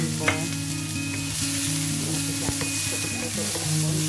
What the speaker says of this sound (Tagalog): lutuin na natin yung ating fried rice. Unahin po natin yung ating carrot